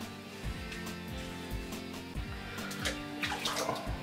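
Water splashes and pours in a Turkish bath as a face is rinsed, a close, continuous wet rushing with repeated scooping splashes in a rough rhythm.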